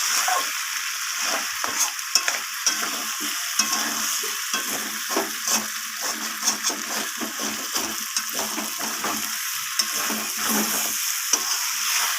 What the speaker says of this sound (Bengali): ধনে পাতাটা দেওয়ার পর আমি আবারও মাংসটাকে একটু ভালোভাবে কষিয়ে নেব